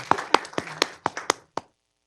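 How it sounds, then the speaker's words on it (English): Sparse clapping for the speakers at a school board meeting: about seven distinct, close claps from a small group in quick uneven rhythm, then silence. "a round of applause for all of our speakers"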